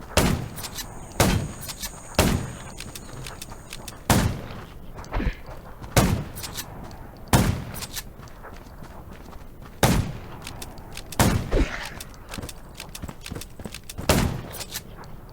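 Gunshots in the zombie video game Undawn, sharp isolated bangs fired singly and in short pairs at irregular intervals over quiet ambience.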